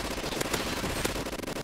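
An MG42 machine gun fires in a Roblox video game, a short, loud, close burst of rapid shots in quick succession with a harsh, crackling edge and no talking.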